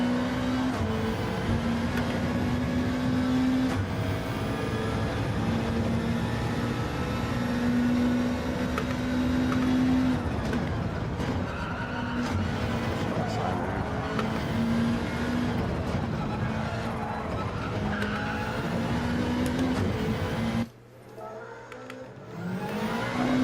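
A racing car laps the Red Bull Ring in Gran Turismo 7, its engine holding a steady high whine that rises and dips through gear changes and braking, loud and continuous before cutting off abruptly near the end.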